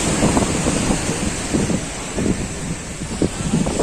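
Sea waves rolling in at Old Digha beach on a rainy day, a continuous rushing surf wash with heavy wind buffeting the microphone, loud and close, no voices.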